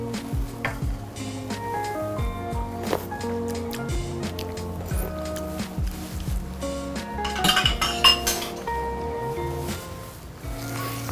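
Sauce for airline chicken is whisked in a bowl, with rapid metallic clinks and scrapes against the sides, some ringing tones and a soft sizzle in the background.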